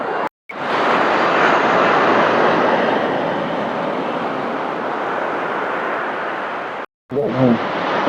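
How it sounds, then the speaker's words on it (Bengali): Sea waves roaring at Puri beach make a loud, continuous, close broadband roar that briefly cuts out twice, with a short voice heard at the very end. "আমরা দাঁড়িয়ে আছি সমুদ্রের দিকে সমুদ্রের আওয়াজ শুনছি"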